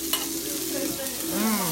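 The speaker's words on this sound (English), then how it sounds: "You're going to saute these onions." Onions sauteing in a pan give off a dense, close sizzle that holds steady throughout, with a light stir and one short tonal squeak near the end.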